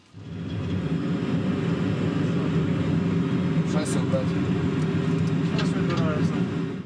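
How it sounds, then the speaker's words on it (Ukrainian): A flight simulator recreates an airplane taking off, a steady loud engine roar that holds throughout, with a few faint high squeaks and tones on top. "Після підготовки здійснюємо зліт."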